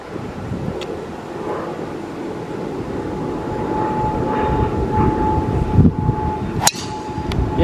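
An airplane takes off near a beach, its engine roar swelling gradually from a distance amid gusty outdoor wind noise.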